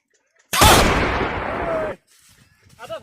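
A gun fires in a comedy skit with one sudden, loud blast that roars for over a second before cutting off. Faint voices and rustling follow.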